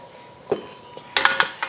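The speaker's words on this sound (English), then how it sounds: "So if you will please dump the sauce on top of the meatballs." Thick mushroom sauce tipped from a pot onto chicken meatballs in a pan, heard as a few sharp metallic clinks and scrapes of cookware and utensil, brief and close, with no talking.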